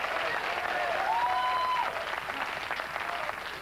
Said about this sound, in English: Let's applaud right now for all the towns he's going to mention.